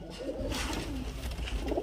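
Murshidabadi Giribaz and Madrasi pigeons cooing together in a crowded dealer's loft, a steady overlapping rumble of low calls close by.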